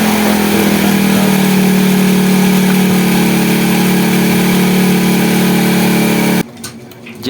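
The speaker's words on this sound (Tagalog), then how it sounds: "Kailangan sumunod yung balik ng makina ng motor." A Honda Wave 100 motorcycle engine idles after carburetor tuning, a loud, close, steady hum holding for about six seconds before it cuts off abruptly.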